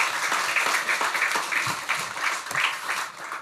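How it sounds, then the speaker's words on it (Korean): A church congregation at Sunday worship claps for the choir in lively, rhythmic applause, a close, bright patter of many hands with regular accented beats that fades slightly at the end. "우리 다시 한번 우리 성가대 경애의 박수 하겠습니다"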